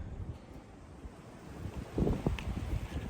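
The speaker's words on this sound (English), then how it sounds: "the wind's not much better on this side" Wind gusting across a valley hillside at Knoxville Wildlife Area during a spring turkey hunt, a steady low rumble of buffeting against the microphone that swells louder near the end, with no talking.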